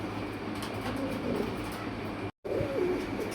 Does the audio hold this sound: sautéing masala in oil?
no